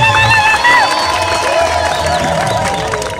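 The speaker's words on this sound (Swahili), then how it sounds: "Pigeni makofi." A crowd at an Uhuru Torch race event at a primary school in Masasi claps and cheers loudly, with shouts, whoops and children's voices mixed into a busy, close roar.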